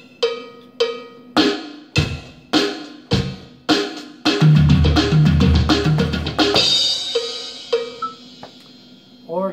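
Drum fill in groupings of five: sharp, evenly spaced hits at first, then a dense rolling burst of fast strokes with a low boomy drum under it, ending in a crash wash and a few more sparse, ringing hits.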